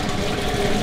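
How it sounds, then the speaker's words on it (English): Aquarium sump pump pushing water up to a UV sterilizer beside a refugium with driftwood, a steady close watery rush and gurgle that runs without a break. "The pump here is what pumps water to the UV sterilizer."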